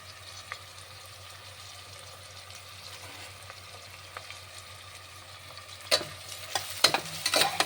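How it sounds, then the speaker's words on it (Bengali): Onions fry and are stirred in a pan, a soft steady sizzle with louder scraping stirs near the end, three medium onions cooking for an Andhra-style chicken dish. "পেঁয়াজটা একটু ভাজা ভাজা হবে"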